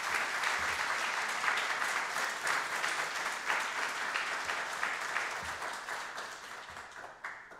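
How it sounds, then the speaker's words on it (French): Sustained applause from a church congregation at a Sunday Mass, a dense, steady clatter of many hands filling the room, moderately distant and gradually tapering toward the end. "On peut applaudir toutes ces personnes."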